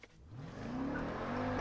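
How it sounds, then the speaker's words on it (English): A 2018 Jeep Grand Cherokee Trackhawk does a four-wheel burnout from a dig without launch control, its engine rising steadily while tire squeal builds and grows louder, close and sustained. "I just did a four-wheel burnout"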